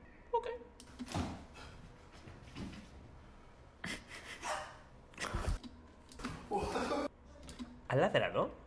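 Dog barking inside a video game, several short bursts of barks scattered through the stretch, mixed with a person talking and reacting over the top.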